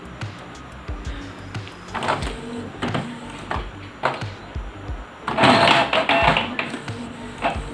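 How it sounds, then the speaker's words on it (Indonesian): A Canon G2010 inkjet printer feeds and prints a page with a run of short mechanical clicks and whirring pulses, then a louder sustained whir of the carriage near the end, close and moderately quiet. "So, print natin. And then, tingnan natin kung gaano siya kabilis mag-print."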